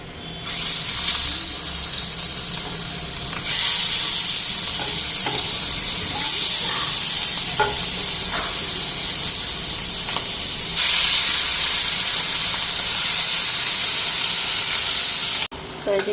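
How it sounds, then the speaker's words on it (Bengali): Fish rubbed with spice paste frying on a tawa, a steady broadband sizzle that swells louder in stretches, with occasional clinks and scrapes of a utensil, close and continuous with no talking. "এদিকে তাওয়াটার মধ্যে বসাই দিতেছি।"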